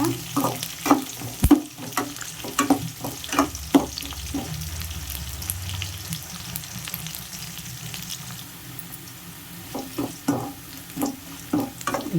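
Sliced flat beans (chikkudu kaya) fry in an oiled pan with a steady sizzle, broken by sharp clinks and scrapes of a spatula stirring at irregular moments, close and with no talk.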